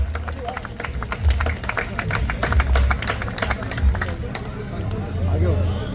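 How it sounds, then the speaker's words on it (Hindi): A crowd at a Delhi gathering for the 600th Hanuman Chalisa recitation applauds loudly to welcome a team on stage, with sharp, busy clapping layered over a voice talking and general crowd murmur throughout. "एक बार पूरी टीम मेरे को लगता है यहाँ सामने एक बार आ जाए और जोरदार तालियों से इनका स्वागत और अभिनंदन होना चाहिए।"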